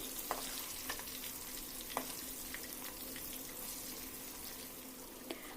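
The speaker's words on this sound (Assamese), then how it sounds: "প্ৰায় 15 মিনিটমান সময় এইখিনি মই ভাজিছোঁ।" Chicken and onion pakoras fry in hot oil as a steady, faint, even sizzle, with a few light taps from turning the pieces.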